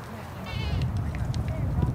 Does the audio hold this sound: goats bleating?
yes